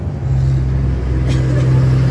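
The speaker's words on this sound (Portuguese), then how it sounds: "Peraí, deixa o caminhão passar, tá só zoado." A truck passing by on a road, a loud, close, steady engine rumble and rush that fills the whole moment without talk.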